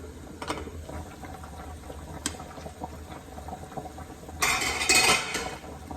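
A lid set onto a pot of frying oil while cooking bulalo, a short metallic clatter near the end over steady sizzling and a few small clinks earlier, close and fairly quiet.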